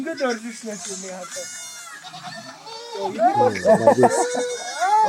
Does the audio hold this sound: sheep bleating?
yes